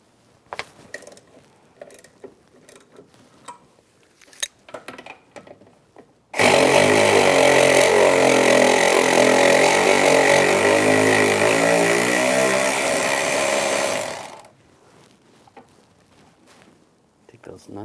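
Loud power tool running steadily for about eight seconds while removing nuts with a 15mm socket from the master cylinder on a 2007-2013 Chevrolet Silverado, with brief clicks and handling noises before and after.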